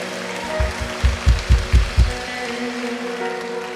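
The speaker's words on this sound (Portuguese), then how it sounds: "dê o seu melhor aplauso ao nosso Deus por tudo que Ele tem feito nesse lugar" A church congregation bursts into applause, a broad wash of clapping with several strong rhythmic swells before it fades into a lingering murmur of the room.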